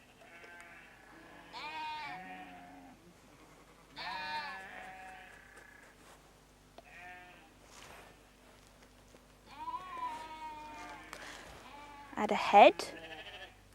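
Sheep bleats come in several separate, close calls spread across the stretch, spaced by pauses, with a voice speaking briefly among them and a sharper burst near the end.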